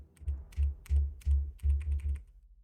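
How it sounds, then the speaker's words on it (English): Close, rapid keystrokes on a computer keyboard come in quick bursts of clicking, five or six clusters in a row, with no one speaking. "But I'm typing up what else you guys found."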